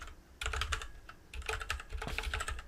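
Rapid keystrokes on a computer keyboard while entering code in a Jupyter notebook, including a Shift+Enter press. Close, crisp clicking comes in three dense bursts separated by short pauses, with no voices.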